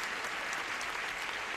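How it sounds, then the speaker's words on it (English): A studio audience on the 1974 Match Game applauds in a dense, even burst of clapping, steady and full throughout the short stretch with no talk over it. "Would you join me in a little applause for our two players here, Sandy Corey and Kendra Plummer?"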